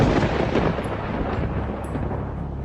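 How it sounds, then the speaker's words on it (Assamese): Thunder rumbles as a sound effect, a loud, continuous deep roll that fills the whole stretch without pause. "ঢেৰেকনিৰ শব্দৰ লগে লগেই যেন বৰষুণ জাকো নামি আহিছিল।"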